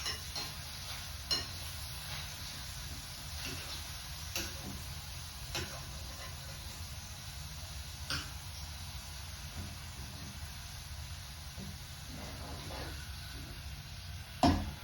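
Shrimp for tacos sizzle in a hot pan, a steady, moderate frying hiss with faint scattered ticks and pops and one louder clatter at the end; no speech.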